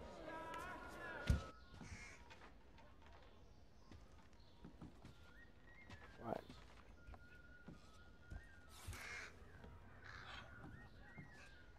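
Birds in the stealth game Thief give a few harsh crow-like caws, scattered and fairly faint against a low ambient game backdrop, with occasional clip-clop sounds.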